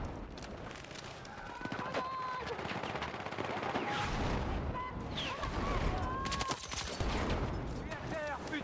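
Dense gunfire in the video game Battlefield 6, with bursts of rifle and machine-gun shots and distant blasts overlapping across the stretch, mixed with game voices and tones.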